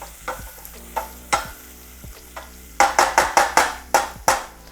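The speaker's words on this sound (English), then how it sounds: "keep sauteing for about another 6 to 7 minutes. We want the vegetables to be completely cooked" Vegetables for chicken pot pie being sautéed and stirred in a pan: a run of scraping stirs over a low sizzle, sparse at first, then a quick burst of six or seven strokes near the end.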